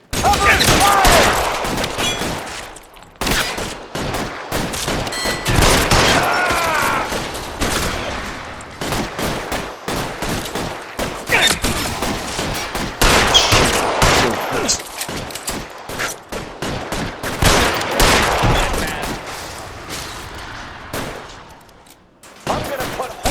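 Dense, loud gunfire in a shootout in the video game L.A. Noire, rapid overlapping shots and bursts almost nonstop, with shouted voices mixed in.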